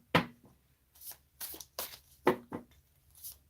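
Tarot cards being shuffled close up, a series of quick riffling bursts and soft papery flutters separated by short pauses, no talking.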